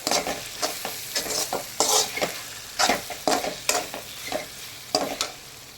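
Semiya vermicelli fries in a pan for masala upma, with repeated scraping stirs over a steady sizzle, close and fairly loud, with no voices.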